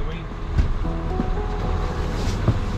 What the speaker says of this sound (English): Stupidly strong wind